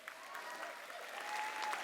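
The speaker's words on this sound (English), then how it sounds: "Give them a round of applause." Steady audience applause at an Indigenous music awards show for a singer and dancers, a dense even wash of clapping from a large crowd that holds constant and swells slightly toward the end, with no talking over it.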